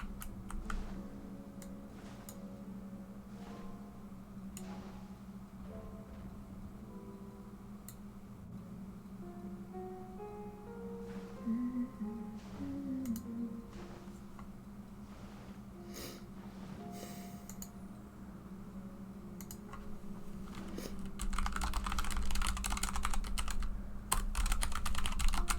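Computer keyboard clicks tap out in irregular bursts of typing, close and fairly quiet, over a steady low hum with soft game tones in the background.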